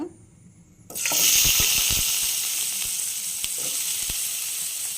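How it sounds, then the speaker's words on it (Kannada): Bitter gourd hits hot oil in a pan with a sudden loud burst of sizzling after a quiet start, then a dense, even crackle that holds steady nearby. "ಇದು ಹಾಗಲಕಾಯಿ ಫ್ರೈ ಮಾಡ್ಕೊಳ್ಳೋಕ್ಕೆ ಆಯಿಲ್ ಹಾಕ್ತಾಯಿದ್ದೀನಿ"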